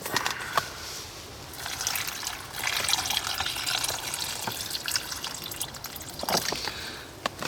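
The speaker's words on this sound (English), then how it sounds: "Put some water in." Water pours steadily into a cooking pot at a campfire during wet, rainy wild camping in the UK, a continuous close trickle and splash lasting several seconds with no talk.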